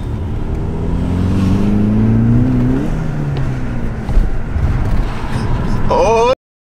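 A BMW with an N55 engine and manual transmission revs up while driving, its rising drone climbing then dropping, heard from inside the cabin with people talking over it.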